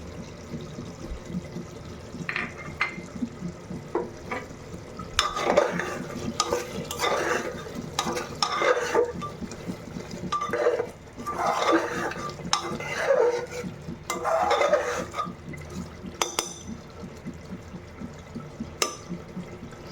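A utensil scrapes and clinks steadily in a pot as ground garam masala, cumin and salt are stirred into meat frying in oil for khichuri, in rhythmic bursts with a soft sizzle underneath.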